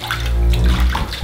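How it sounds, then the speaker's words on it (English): Water sloshes and fills in a bathtub where a homemade bath bomb is dissolving, a steady close churning wash with a soft fizz under it and a small splash at the end. "Oh, it's fizzing!"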